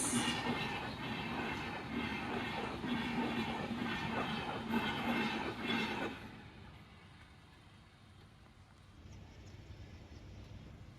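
Chandigarh–Pandharpur Express train rolling past a level crossing near Shrigonda, a loud steady rumble with rhythmic wheel clatter for about six seconds before fading to quieter ambient noise as it clears.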